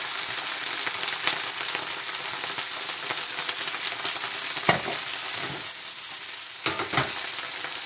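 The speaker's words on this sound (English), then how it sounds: "next thing I'm going to just deglaze the pan with a little white wine" Hot pan deglazed with a splash of white wine while cooking prawns and pasta, a loud continuous sizzle and hiss close by, with a couple of brief clatters from stirring or the pan.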